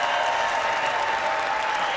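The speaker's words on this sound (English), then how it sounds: "The applause from the First Lady, Dr. Jill Biden." Sustained applause fills the US Congress chamber during the State of the Union address, a continuous dense roar of clapping from a large crowd, steady and even.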